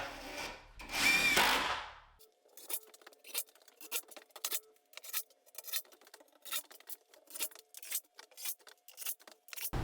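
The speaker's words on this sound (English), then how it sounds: "I'm going to lock this down with some 2-inch screws" Power drill driving 2-inch screws into a wooden work table for a laser engraver, heard as a loud opening burst followed by a steady run of short, clicking, rattly pulses close by with no talk.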